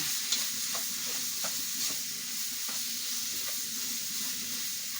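Food for spicy chapati rolls is stirred in a sizzling pan with reserved boiling juices, a steady fry and hiss with soft scraping strokes of the spoon repeating throughout.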